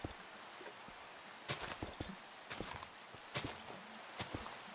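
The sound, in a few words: rain falling in Minecraft-style video game Kaspcraft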